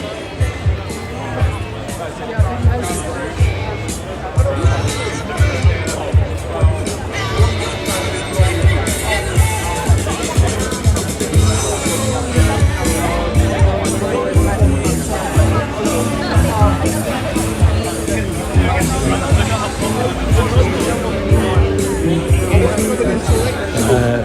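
A crowd gathers at a Turning Point UK protest outside the BBC in London, a steady outdoor hubbub of many voices with busy babble and scattered louder calls throughout.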